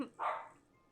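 A puppy gives one short, high bark, faint and brief, against quiet background noise.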